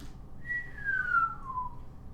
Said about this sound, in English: there is this strange whistling sound in the air